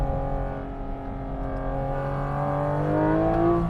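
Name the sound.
Porsche sports car accelerating and changing gear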